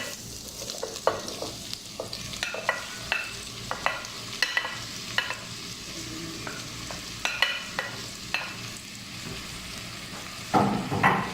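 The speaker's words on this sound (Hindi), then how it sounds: "प्याज को मैं तकरीबन 4 से 5 मिनट के लिए फ्राई करूँगी।" Onions frying in oil in a pan while being stirred, with a steady sizzle broken by repeated sharp scrapes and taps of a spoon against the pan, no talking.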